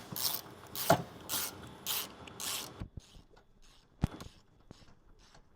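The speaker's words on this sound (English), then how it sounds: "Now we'll get these straps tightened up." Straps on an S&B 36-gallon undercarriage grey/fresh water tank being tightened: about five evenly spaced ratcheting bursts up close, then a few sparse mechanical clicks and knocks in a quieter stretch.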